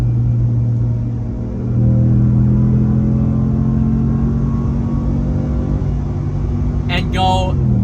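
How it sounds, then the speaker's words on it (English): A Ram 1500 Rebel GT pickup truck with an 8-speed paddle-shift transmission accelerates hard toward redline in 4th gear, its engine a loud, sustained rumbling drone with slight pitch changes throughout. "at a fast speed, bouncing it off of red line in 4th gear"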